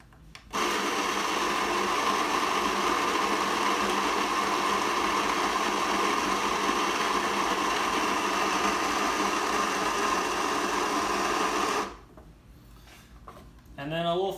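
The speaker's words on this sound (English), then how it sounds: "So I'm just gonna grind it here." An electric burr coffee grinder grinds coffee beans in a loud, steady whirring drone for about eleven seconds, then stops abruptly, leaving quiet handling sounds and a brief restart at the end.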